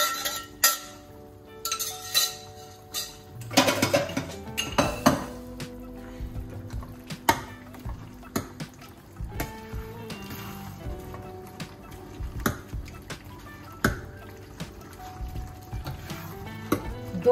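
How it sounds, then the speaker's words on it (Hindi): Vegetables for pav bhaji are tossed and stirred in a kadhai, with irregular metallic scrapes and clanks of a ladle against the pan over a soft, steady sizzle. "सारी सब्जी को हम कढ़ाई में पलटते हैं।"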